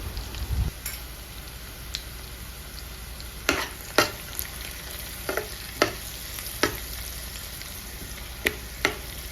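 Country chicken curry with salt and turmeric frying in a pan, with a soft steady sizzle and scattered sharp clicks and scrapes of a spoon stirring, close and without talk.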